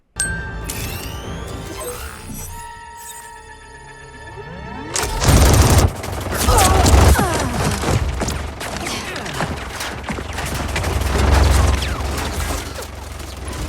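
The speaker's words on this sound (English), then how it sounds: "That death machine gun had enough power and speed to rip through those tires." Machine gun fire from a death machine gun in Mortal Kombat 11 erupts after a run of chiming metallic dings, becoming loud sustained rapid bursts with booming impacts that swell and fade over several seconds.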